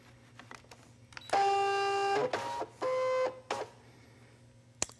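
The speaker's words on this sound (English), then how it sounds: "Then we're going to load it into the machine." A vinyl cutting machine loading a cutting mat with vinyl pressed onto it gives off motorized whirring bursts with steady tonal hums, two long runs separated by short pauses and clicks, fairly loud and close, with no talking.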